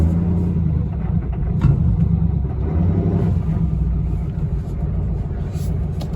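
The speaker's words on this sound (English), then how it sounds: "Okay, it runs a little rough." A 2019 Chevy Duramax diesel engine idles roughly, a loud close low rumble with uneven pulsing throughout and no talking over it.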